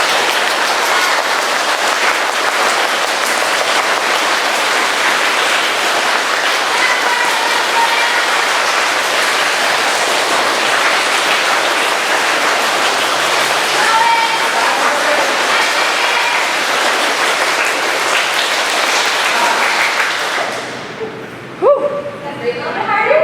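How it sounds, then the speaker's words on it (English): A group clapping their hands as fast as possible as an exercise, a dense continuous rattle of rapid claps sustained for about twenty seconds, then stopping abruptly, with voices over it. "we're going to clap our hands"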